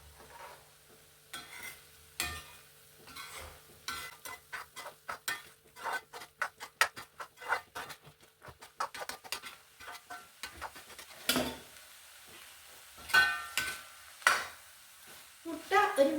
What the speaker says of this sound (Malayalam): മുട്ട ഒരു പകുതി വേവാകുമ്പോഴേക്കും നമുക്ക് എല്ലാം കൂടി നന്നായിട്ട് ഇളക്കാം ഇളക്കി യോജിപ്പിച്ചെടുക്കാം